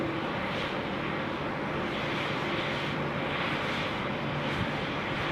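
A Qantas Airbus A330 airliner approaches to land at Sydney Airport, heard as a steady, fairly distant roar of jet engines that holds level throughout, with no talking.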